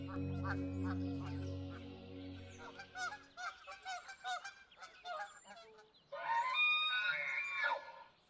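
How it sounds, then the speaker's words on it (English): Loud honking and squawking from a group of ground birds, with bursts of calls and a final dense, raucous stretch of overlapping cries. "Amidst the noisy chaos of the ground birds"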